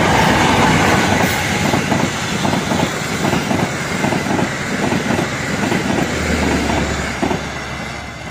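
A passing parcel train hauled by a CC 206 diesel locomotive rumbles loudly, wheels clattering in a steady rhythmic clickety-clack over the rails, with a low engine drone near the end.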